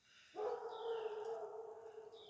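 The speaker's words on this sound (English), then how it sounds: "There goes Ozzy, our hound." A hound dog lets out a long, sustained howl that starts abruptly and holds steady, rising and wavering slightly, with a faint higher whine above it, out in a mountain setting.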